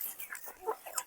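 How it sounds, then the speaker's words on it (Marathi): Free-range country chickens on a small drought-area poultry farm give a few faint, short clucks and chirps, quiet and somewhat distant, with no talk. "तर हे अशा आपल्या कोंबड्या आहे मित्रांनो"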